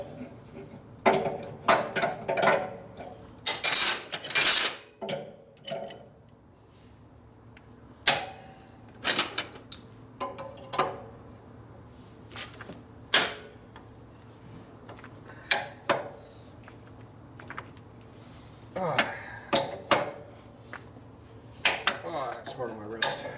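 Crescent wrenches clank and clink in sharp metallic bursts while someone loosens a valve on shop air lines, with scattered close knocks separated by quiet pauses.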